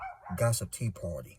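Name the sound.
dogs barking in the background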